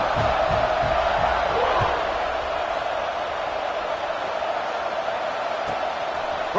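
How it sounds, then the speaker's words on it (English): A football stadium crowd buzzes after a score, a broad, continuous roar of many voices that stays steady and slightly eases after the first couple of seconds. "this crowd is buzzing after that last score"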